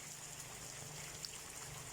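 Heavy rain falls steadily in Xieng Khouang, a dense, even hiss of drops that holds at one level throughout with no voices.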